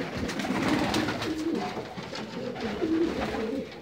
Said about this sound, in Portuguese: os pombos estão aí